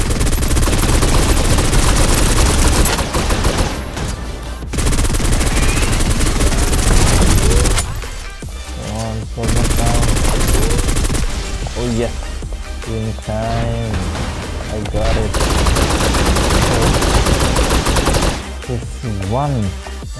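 Heavy, nearly continuous automatic gunfire from the video game Snowbreak Containment Zone, loud and close with brief breaks, mixed with game sounds and a person talking.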